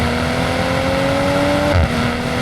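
A 2020 BMW M340i pulls hard at full throttle, its engine note climbing steadily and loud from inside the cabin for about two seconds before it briefly shifts and settles.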